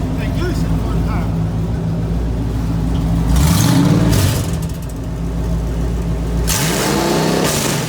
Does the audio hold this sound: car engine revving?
yes